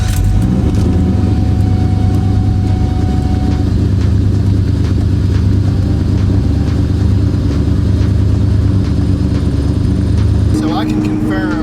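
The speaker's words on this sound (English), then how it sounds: "I still have the throttle bearing noise." A Terminator Cobra engine with a big cam and ported Eaton supercharger runs steadily and loud for most of the clip, carrying a persistent throttle bearing noise, then cuts off near the end as someone talks over it.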